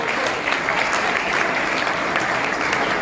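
An audience at a school award ceremony for Guru Purnima applauds a prize winner at a high school, a loud, continuous roar of many hands clapping that holds steady before cutting off abruptly.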